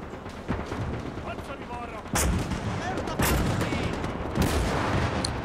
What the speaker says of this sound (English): it looks like the flak guns are still providing that covering fire